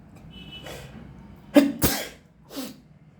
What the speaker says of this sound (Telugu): మా వారు తుమ్ముతున్నారు